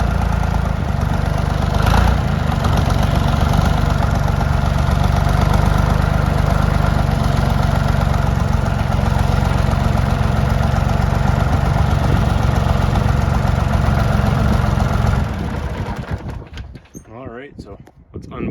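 A farm tractor engine runs steadily and loud during work on a homemade garlic harvester, with a continuous droning rumble that cuts off near the end.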